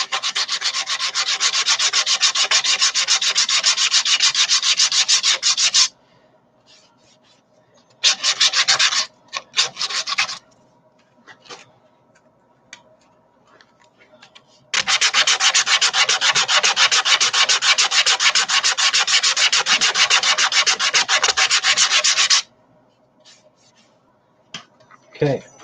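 A turned wood piece being sanded on the lathe through successive grits, a loud steady rushing abrasion that runs for several seconds, stops, returns in short bursts, then runs long again before stopping.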